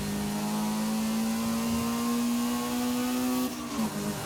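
A stock B-Class Lotus in Forza Horizon 5 holding high revs, a loud steady engine whine climbing slightly in pitch, then dropping briefly as it shifts near the end.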